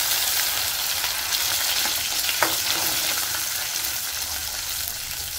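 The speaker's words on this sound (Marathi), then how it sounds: "टोमॅटो प्युरी तेलात छान परतून घ्यायचे" Tomato puree frying in oil with ginger garlic paste, a steady close sizzle and crackle with faint stirring scrapes throughout, no voices.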